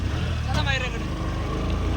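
A car engine rumbles low and steady at night on a street near Nashik Road as the vehicle turns, with voices talking over the continuous drone.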